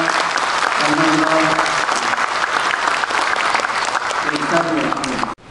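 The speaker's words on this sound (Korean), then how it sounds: "아주 큰 박수로 인사를 드려주시길 바라겠습니다." Loud applause fills the hall at an academy opening ceremony, many hands clapping continuously with a voice speaking over it before it cuts off abruptly.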